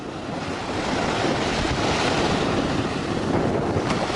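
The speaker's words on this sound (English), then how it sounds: "we are at the water's edge now" Waves wash in at the water's edge as a steady, close, broadband rushing wash with light wind buffeting the microphone, continuous and without voices.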